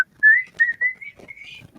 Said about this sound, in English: was that you whistling?